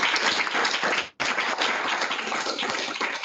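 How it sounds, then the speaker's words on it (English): An audience at an academic talk on predatory publishing applauds together, a dense, even roar of many hands that cuts off briefly near the start and then carries on steadily. "So I would like to have a big applause once again for Emanuel"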